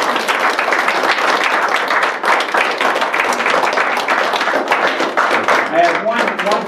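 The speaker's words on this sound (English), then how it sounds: "a round of applause" An audience breaks into sustained applause, many hands clapping densely and steadily for several seconds, fairly close and loud.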